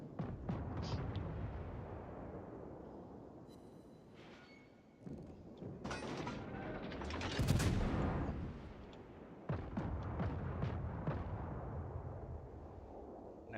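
Naval cruiser guns fire high-explosive shells in the World of Warships game aboard the tier 6 Russian cruiser Budyonny, with repeated booming salvos and rumbling blasts, dense and loud, with sharp transient cracks and a continuous low-frequency roar.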